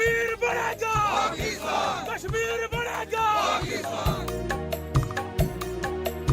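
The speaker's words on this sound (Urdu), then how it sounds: "پاکستان زندہ باد اور کشمیر بنے گا پاکستان کے فلک شگاف نعرے لگائے" Large crowd at a Quaid-e-Azam Day rally at Kohala Bridge, Kashmir, chanting patriotic slogans in loud rhythmic unison, with repeated shouted call-and-response bursts filling the scene.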